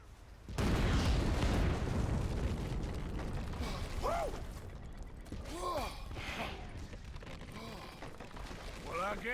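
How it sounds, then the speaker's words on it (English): A bridge blown up in the video game Red Dead Redemption 2: a sudden loud blast that settles into a long rumbling roar with creaking, crashing debris, with a voice calling out once or twice over the noise. "we get to blow up a bridge now"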